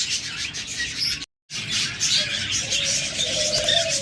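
Pet budgies, cockatiels, lovebirds and doves chirp and tweet from cages, a busy mix of overlapping calls with one longer whistled note, close and fairly loud, briefly cut by a moment of silence.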